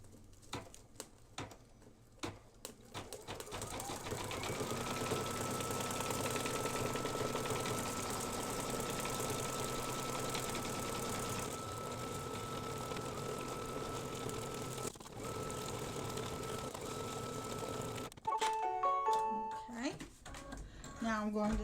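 Embroidery machine stitching through mylar laid over earlier stitching on a quilted mug rug, a steady mechanical hum and patter running for most of the stretch, with brief handling noises at the start and end.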